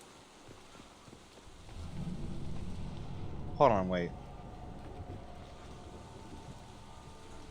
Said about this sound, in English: There's rain inside the building.